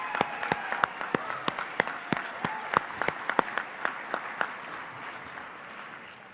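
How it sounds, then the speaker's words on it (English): Audience at a Republican National Committee meeting in Atlanta applauds steadily for several seconds, a dense wash of clapping with sharper individual claps standing out near the microphone, fading slightly toward the end. "she deserves a round of applause for everything that she's done for our party"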